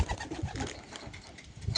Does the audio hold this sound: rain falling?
no